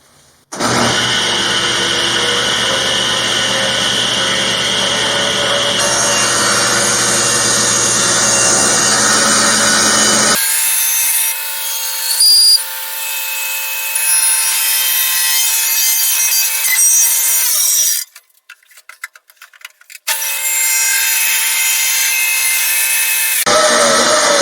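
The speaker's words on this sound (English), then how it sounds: "So now I'm going to cut it to the exact height that I calculated." Wood being sawn by hand to cut a piece to a set height for a DIY separating toilet build: steady, loud rasping strokes close by for about ten seconds, followed by quieter scraping and brief pauses, with no talking.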